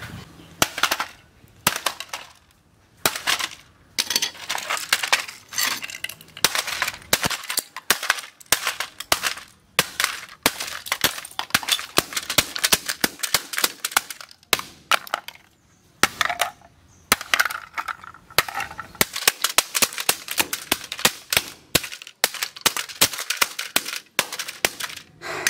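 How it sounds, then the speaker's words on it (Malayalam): A household phone is hacked and smashed apart with repeated sharp, cracking blows that come in rapid irregular bursts with brief pauses, loud and close throughout. "പക്ഷേ ഫോൺ അതെന്തായാലും പൊട്ടിക്കിട്ടു ഉറപ്പാ."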